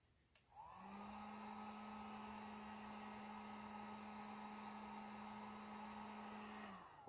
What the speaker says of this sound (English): I'll probably use this heat gun to heat up this